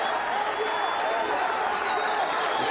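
Dense cricket crowd noise at a 1999 Sharjah Cup India versus Pakistan match after a massive hit, a continuous roar of cheering with scattered applause, steady and undiminished across the short stretch.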